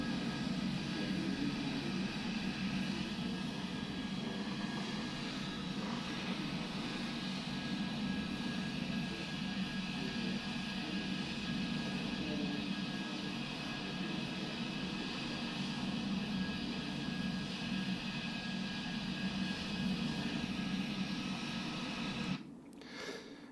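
Fenix A320 airliner in Microsoft Flight Simulator, heard from inside the terminal: a steady, muffled engine drone and hum holding evenly throughout, with a brief disturbance near the very end.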